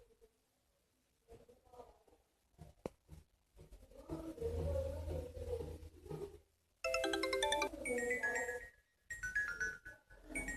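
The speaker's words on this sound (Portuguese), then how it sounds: "Aqui, ó, som de notificação. Tem essa música, ó." A WhatsApp phone notification tune plays a bright melodic chime phrase after some quieter rustling and clicks, ringing clearly with no one talking.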